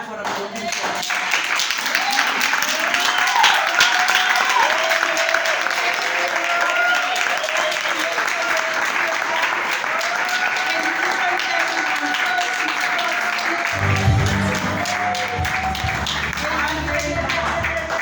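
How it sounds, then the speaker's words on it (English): An audience claps steadily and loudly at a gathering, with dense sustained applause filling the whole stretch and a low rumbling noise joining near the end. "Just give her a serious clap."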